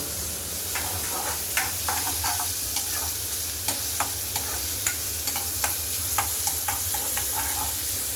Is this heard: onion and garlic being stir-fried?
yes